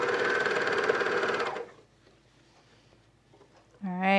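A sewing machine stitches leggings fabric in a steady, fast whir for about a second and a half, then goes quiet, before a voice starts speaking near the end.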